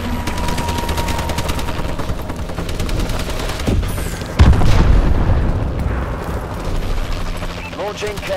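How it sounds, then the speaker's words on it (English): Missile strike explosions in the shooter Call of Duty: Advanced Warfare during a team deathmatch: rapid gunfire and mechanical clatter build to a loud, deep boom near the middle, followed by rumbling debris and scattered shots. "Friendly missile strikes incoming."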